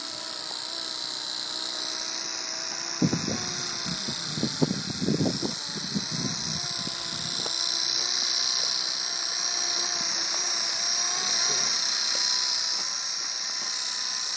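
A remote-controlled Walkera V200DQ01 model helicopter flies in near darkness, its rotor whining steadily at high pitch, with a few brief knocks and thumps early on and no talking.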